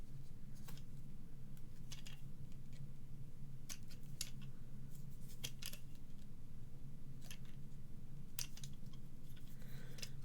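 Scissors snip through thin card to cut out small pop-out card pieces, producing crisp, irregular clicks and snips spaced a second or so apart over a low background hum.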